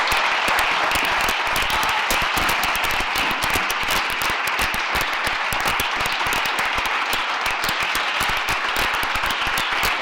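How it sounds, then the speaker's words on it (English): An audience at an animal-rights interview event gives a sustained round of applause, dense crackling claps continuing evenly and close for the full length, with no talking. "please join me in giving him a round of applause."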